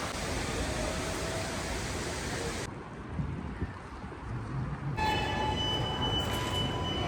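A train passes through a station in the Netherlands. A steady, loud rolling rumble with rail noise fills the whole stretch, shifting in character partway through and then picking up faint high wheel squeal.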